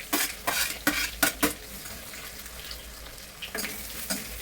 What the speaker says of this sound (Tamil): கருவேப்பிலை போட்டுட்டு வெங்காயத்தை வச்சு போட்டு நல்லா வதக்கிடுங்க